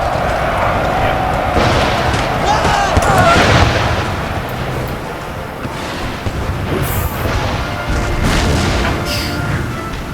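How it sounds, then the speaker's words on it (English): Cannon artillery in Empire: Total War thunders in a battle scene, with heavy booms and gunfire rolling continuously over dense battlefield noise, loud and close. "Let's get that cannon to stop firing on our men."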